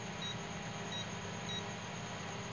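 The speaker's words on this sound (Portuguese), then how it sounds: "no multímetro, vamos colocar na escala de resistência ômica bip sonoro" A multimeter set to audible continuity mode beeps while probing the magnetron of an Electrolux microwave oven that will not heat. Three short, evenly spaced high beeps sound over a steady background hum and a thin constant whine.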